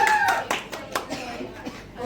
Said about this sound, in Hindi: जोरदार तालियां बोला है भाई हमने, तालियां तो बजा दो।